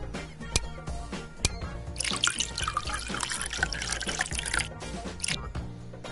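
Sugar syrup poured into a long glass holding lime wedges gives a close, steady liquid trickle and splash lasting a few seconds, framed by sharp clinks of glass before and after.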